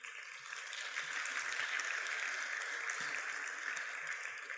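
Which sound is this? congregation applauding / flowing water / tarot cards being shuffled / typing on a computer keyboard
congregation applauding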